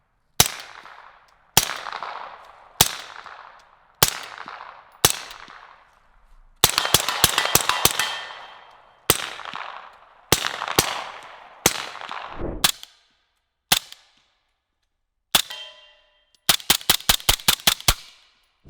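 Suppressed gunshots from subsonic rounds fired through a suppressor at a shooting range, sharp cracks with decaying tails arriving singly and in rapid strings of six to eight, close and loud, with no talking.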